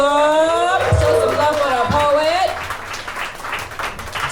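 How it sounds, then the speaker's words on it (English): An audience at a poetry slam in Greenville claps and cheers for a poet, with loud applause and whoops at the start, then dense clapping under crowd babble as the noise eases. "Clap that up."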